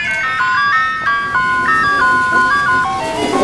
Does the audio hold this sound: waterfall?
no